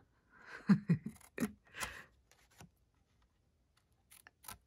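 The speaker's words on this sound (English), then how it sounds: "we're just going to completely cut off the corner at the bottom, corner box" Scissors cut off the bottom corner of a paper box, giving a few close, quiet snips and paper rustles, then faint light handling sounds.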